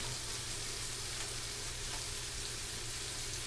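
Steak and peppers sauté in a pan over moderate heat for a steak bagel, giving a steady, close, continuous sizzle and crackle with no talking.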